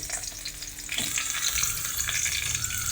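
Curry leaves and ginger frying in a pan for a chicken curry, a dense crackling sizzle with stirring scrapes that grows louder after the first second, close and without talk.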